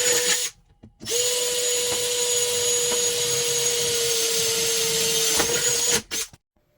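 A power drill bores mounting holes for a vehicle snorkel, a steady close whining buzz held for about five seconds between short pauses.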